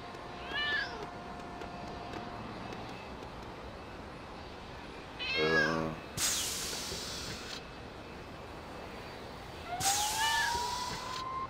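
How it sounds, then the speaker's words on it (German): A cat meowing in the LEGO City Undercover video game, several short rising meows spaced across the clip, moderately loud over a steady game ambience without speech. "Oh, hier habe ich doch die Katze miauen gehört."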